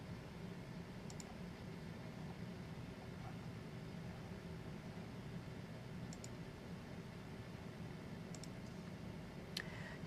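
A computer mouse clicks a few times, sharp and close, at separate moments spaced out over a steady low hum of room noise, with no voices.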